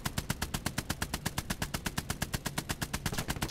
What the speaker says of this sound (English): Right, guns at the ready. And 3, 2, 1, fire.